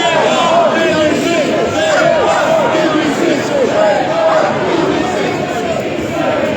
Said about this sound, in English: This is a very large crowd.